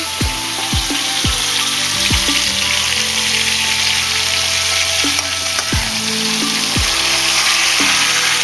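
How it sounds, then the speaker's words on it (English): Liver and onions frying in a pan on medium heat, a loud, dense, steady sizzle close up, with faint tonal whines sweeping down now and then in the background; no talking. "go ahead and put the rest of the meat in and the onions in"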